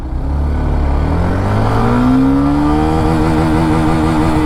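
A Hero Xtreme 125 motorcycle pulls away in first gear, its engine note climbing steadily in pitch as it accelerates, loud and close throughout with no talking.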